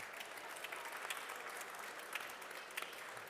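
Steady applause from a conference audience, many hands clapping continuously at moderate volume for a few seconds.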